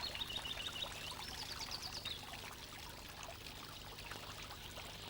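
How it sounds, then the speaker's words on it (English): Water trickling from a garden water feature, a steady soft pour running throughout, with brief bird chirps near the start. "Water features here add a calming effect."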